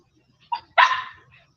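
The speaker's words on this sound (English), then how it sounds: "Sorry, that's the dog." Pet dog indoors giving a short yip followed by a single louder bark, close and brief, with quiet room tone around it.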